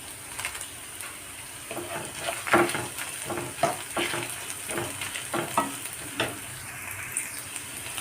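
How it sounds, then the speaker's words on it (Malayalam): Dried red chillies sizzle in hot oil in a pan while being cooked for a chutney, with a steady low frying hiss and repeated scraping stirs close by. "ഇനി ഇതിലേക്ക് ഞാൻ ഇട്ട് കൊടുക്കുന്നത് ഉണക്കമുളകാണ്"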